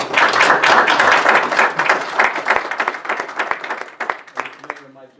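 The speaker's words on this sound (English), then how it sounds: "I'm not used to hearing applause" Applause from an audience at a town council meeting, dense clapping loud at first then thinning out and fading over about five seconds, with talking underneath.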